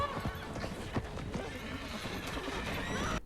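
Horses neigh and whinny with clip-clopping hooves in a short, busy scene from the film The Lord of the Rings: The Two Towers, heard through a screen; a voice speaks over the scene.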